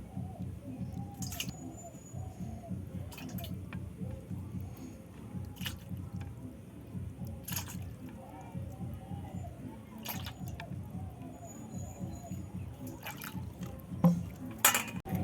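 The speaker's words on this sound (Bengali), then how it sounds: "আমি আবার জল নেব।" Water added for homemade ice cream makes a wet squishing and slopping as it is mixed in rhythmic strokes, with a few sharp clinks and a louder splash near the end, fairly quiet and close.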